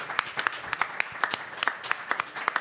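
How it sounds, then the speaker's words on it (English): Sparse, distinct handclaps from a small press-conference audience, a few people clapping unevenly at close range. "Just a round of applause for the new DP, Darwin Quintero."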